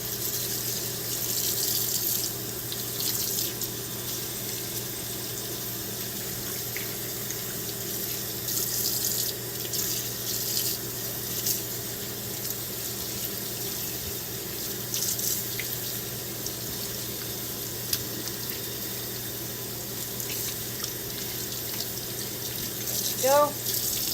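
Running tap water rinses shampoo off a ferret during a bath, a steady continuous splashing flow at moderate level throughout, with faint voices in the background.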